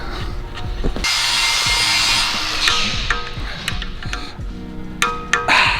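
A wrench ratchets while engine bolts are torqued during an engine build. A burst of harsh, rushing noise gives way to scattered sharp clicks and metallic ticks, close and fairly loud.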